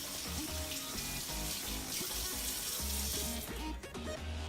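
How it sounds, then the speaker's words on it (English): Kitchen tap water runs steadily into a sink while a cucumber is washed under it, a constant close splashing stream with faint clinks and no talking. "Cucumber is another vegetable that we have to prep by washing and drying."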